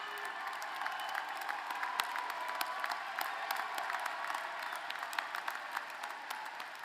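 A commencement audience applauds steadily, a dense wash of clapping from a large crowd in a hall, even and sustained throughout, heard from some distance with no talking over it.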